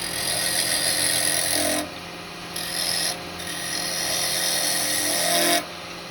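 A 12mm round carbide chisel cuts into a spinning small wooden Japanese lidded box on a lathe, giving a steady loud scraping rasp over motor hum that stops briefly twice before resuming.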